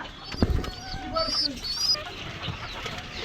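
Pigeons, including a Huma pigeon, coo and chirp close by, a run of short, warbling calls over a low, steady background.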